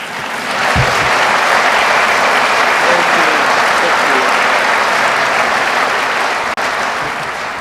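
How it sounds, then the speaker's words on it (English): Loud, sustained audience applause at a track and field hall of fame induction ceremony, dense even clapping filling the room for several seconds with a single sharp knock near the end. "Yeah, you can clap for Susie."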